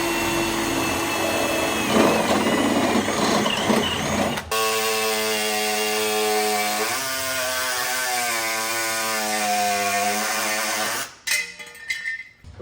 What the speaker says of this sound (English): I'm just going to pop a couple of holes up here so I can use the body saw and connect these cuts